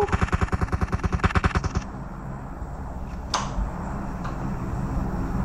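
Automatic gunfire in PUBG Mobile, a rapid burst of evenly spaced loud shots for under two seconds, then quieter game ambience with a single sharp impact.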